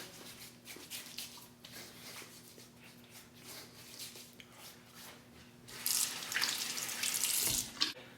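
Hot water runs from a bathroom sink tap while a razor is rinsed during a shave; a faint, steady trickle gives way to a louder, splashing gush near the end.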